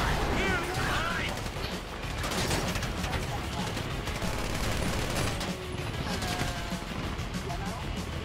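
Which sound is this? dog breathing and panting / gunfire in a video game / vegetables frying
gunfire in a video game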